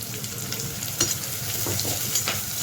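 Steady frying sizzle of onions in a pan for mutton chukka, with occasional scraping stirs cutting through the hiss; no voices.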